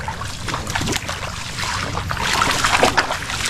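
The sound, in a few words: water being stirred by hand while crabbing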